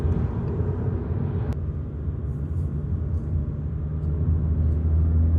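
Steady low road rumble and tyre roar inside a moving 2023 Honda Jazz facelift, constant and fairly loud throughout, with no talking.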